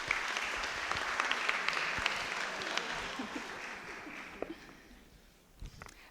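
Audience applause at a conference on women's burnout, steady clapping from a seated crowd that gradually thins and fades out over several seconds.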